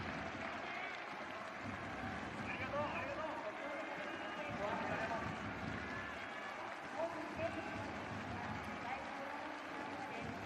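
Fans applaud at the end of a J1 League entry play-off between Kyoto Sanga and Roasso Kumamoto, a distant, diffuse stadium wash of clapping and crowd noise with a commentator talking over it.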